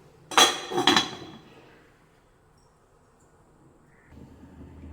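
Two quick metallic clanks of a lid set onto a pot of simmering chicken gravy, close and sharp, then a quiet stretch before a low rumble rises at the end.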